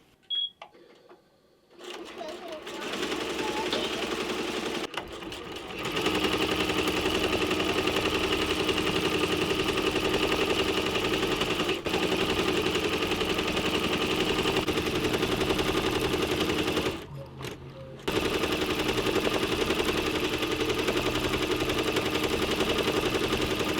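An embroidery machine stitches embossed-look letters. It starts after a few soft clicks and settles into a loud, fast, continuous clatter of needle strikes, pauses briefly, then resumes stitching with no talk.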